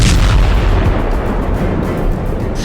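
Russian army artillery shelling in the war in Ukraine, heard as a loud, continuous low rumble of cannon fire and blasts with no pauses and no voices.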